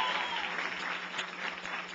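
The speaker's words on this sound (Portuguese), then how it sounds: "Aplausos para todos vocês." Applause from an audience at a Brazilian congressional event on combating homophobia, a brief, fairly faint, steady patter of clapping heard from a distance.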